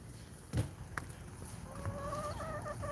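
Hens in a backyard coop give soft clucks and a few short, rising calls at a distance. The sound is faint and sits over low outdoor background with a couple of knocks.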